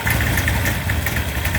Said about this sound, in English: the engine's idling around 900 RPM